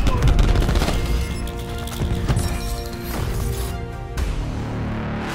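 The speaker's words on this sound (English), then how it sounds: "Throwing cluster grenade." Cluster grenade in Call of Duty Black Ops 4 going off as a dense, rattling burst of explosions and crackling impacts, loud and continuous, with gunfire texture throughout.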